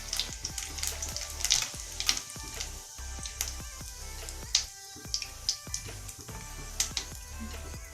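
Bay leaves and whole cumin seeds sizzle in hot oil in a kadai, a steady crackling fry broken by sharp pops and spatters, close and moderately loud with no talking.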